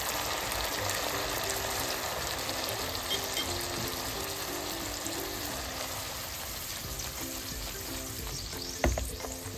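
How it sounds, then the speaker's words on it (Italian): Sausage and porcini mushrooms fry in a pan with a steady, soft sizzle and crackle; a brief louder hiss near the end as white wine hits the hot pan. "Faccio cuocere per qualche minuto e dopo sfumiamo con il vino bianco."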